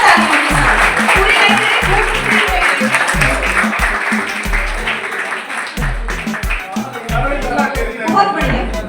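Loud, sustained applause from a crowd at a retirement ceremony honouring someone with a turban, rolling continuously under a pulsing musical beat and voices.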